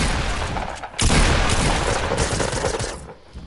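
Pump shotgun blasts and rapid SMG fire in Fortnite, loud and close, with one heavy boom followed by a dense flurry of shots.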